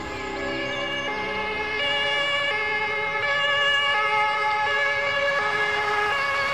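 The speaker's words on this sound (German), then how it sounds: "Wir fahren deinen Opi mit dem Rettungswagen." An ambulance siren wails in a steady repeating two-tone pattern, loud and close, holding throughout with a faint vehicle rumble beneath.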